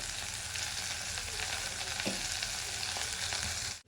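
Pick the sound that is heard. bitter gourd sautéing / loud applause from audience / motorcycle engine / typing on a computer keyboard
bitter gourd sautéing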